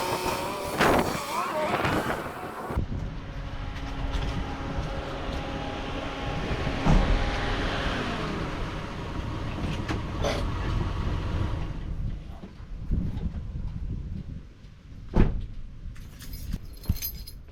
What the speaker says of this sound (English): I'm just going to take it for a quick test drive around the block